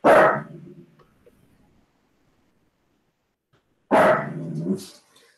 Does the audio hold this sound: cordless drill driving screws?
no